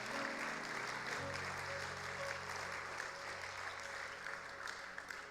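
Church congregation claps loudly in sustained applause, a thick continuous patter with a low musical hum underneath, then continuing steadily.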